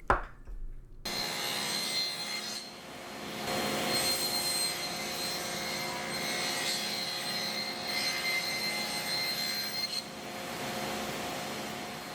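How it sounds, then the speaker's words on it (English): A power tool cuts half-inch rabbets along the sides of wooden wall cabinets, 15 and 30 inches long, in a workshop: a loud, steady broadband whine and roar running almost unbroken for about eleven seconds, alone with no talking. "then I'll have my 1/2 inch rabbet cut on both my 15 inch cabinet and"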